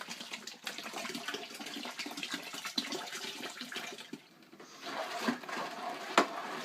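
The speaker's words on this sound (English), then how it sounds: "we're going to add 6 liters of water" Water poured into a wine-making bucket while brewing pin cherry wine, six liters of unchlorinated water, a continuous splashing gush that is fairly faint, dips briefly and then resumes, with no talk.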